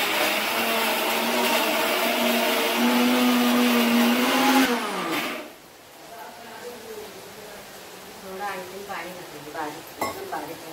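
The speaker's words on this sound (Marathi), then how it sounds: "आणि कांदा कांदा पण म्हणजे सर्व एकत्रच वाटून घ्यायचं." Mixer grinder blending garlic, onion and masala together into a fine paste for Kokani-style bangda fish curry, a loud steady whirring roar for about five seconds that then cuts off, leaving quieter kitchen clatter.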